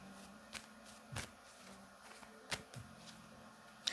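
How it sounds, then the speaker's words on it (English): A deck of cards is shuffled in a quiet room, giving faint, close, scattered riffles and soft taps with no voices. "let me shuffle"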